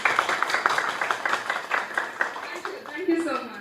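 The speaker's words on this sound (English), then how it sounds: "give them a big round of applause" An audience claps for an event's organizing team at an evening gathering, a steady, dense patter of many hands that fades slightly near the end, with speech mixed in.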